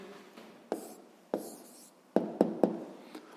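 A pen writes an answer by hand on paper, giving soft scratchy strokes and several sharp taps close by, with no talk.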